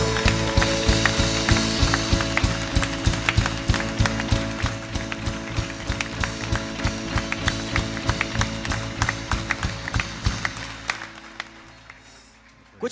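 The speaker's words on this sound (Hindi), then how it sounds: "बहुत पुरजोर तालियां होनी चाहिए।" Loud studio audience applause at a game show, dense sharp clapping with a steady tapping rhythm running for about eleven seconds before cutting off.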